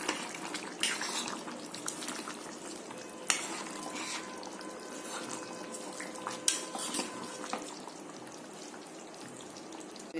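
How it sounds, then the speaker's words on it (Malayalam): Rock salt is mixed into chicken curry in a pot. A spoon clinks and scrapes against the metal in irregular strokes over a faint simmer, with a few sharper knocks. "നന്നായിട്ടൊന്ന് മിക്സ് ചെയ്ത് കൊടുക്കുക."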